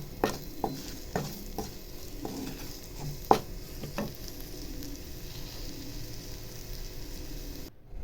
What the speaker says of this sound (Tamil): இப்போ நல்லா இதை ஃப்ரை பண்ணிடலாம்